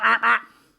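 A voice imitates mating seagulls outside a window at dawn, giving two loud, nasal honking squawks in quick succession and then a faint trailing tail.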